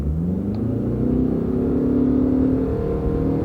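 A Ford pickup truck with a CVT transmission accelerates hard from a standing start, its engine note rising in a smooth, steady whine without gear shifts, loud and close throughout.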